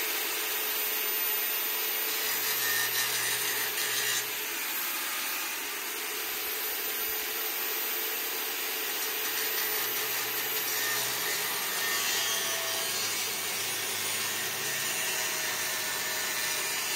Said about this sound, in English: I think I can just do better with the grinder